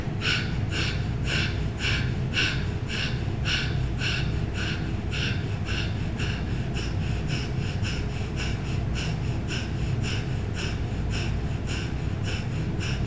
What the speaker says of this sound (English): We are going to begin breath of fire.